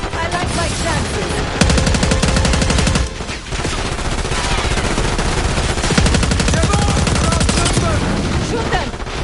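Loud, sustained automatic gunfire from Call of Duty Black Ops 6, with rapid bursts running almost continuously through the whole stretch.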